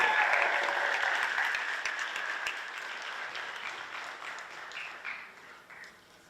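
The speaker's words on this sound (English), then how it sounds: "How about another round of applause for AP Scholars of Honor." A school academic awards audience gives a round of applause for student scholars, loud and full at first, then gradually thinning and fading toward the end.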